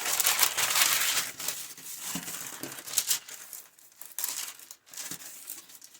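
Close crinkling and rustling of a sheet of parchment paper being handled, irregular bursts of papery crackle with brief pauses, no talking over it.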